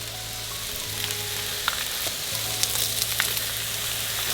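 Lightly browned peppers frying in a pan, a continuous close crackling sizzle with scattered sharp pops and utensil ticks throughout, no voices.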